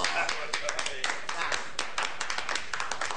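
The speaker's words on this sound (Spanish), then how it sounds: "A ver, otro aplauso," Sharp, irregular clapping from a small group answering a call for more applause on a comedy show, with steady hand claps mixed under ongoing talk and laughter.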